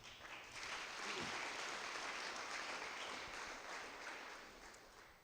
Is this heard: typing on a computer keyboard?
no